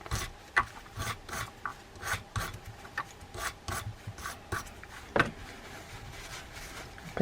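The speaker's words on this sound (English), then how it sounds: "I'm going to grab my bristle brush and pull through." A bristle brush scrubs the gear of a vintage Sears 910 fishing reel with penetrating oil, making quiet, rhythmic rasping strokes in quick repeated bursts, close up and without talk.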